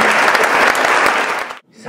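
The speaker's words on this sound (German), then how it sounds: "Applaus für die Doris." Loud audience clapping at a stage comedy show, dense and continuous for over a second before cutting off abruptly, followed by a faint tail.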